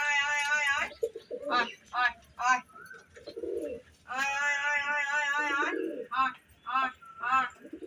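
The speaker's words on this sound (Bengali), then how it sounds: "ওই যখন ডাকছে কি হারে পায়রাটা" A pigeon coos loudly and close by, repeating long throaty calls with short, choppy notes between them and brief pauses in between.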